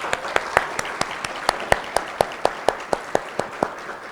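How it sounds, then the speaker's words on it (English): Audience applause at an academic excellence awards ceremony: steady, evenly spaced clapping with prominent individual claps cutting through a dense wash of hands, sustained throughout. "Can we give them a round of applause?"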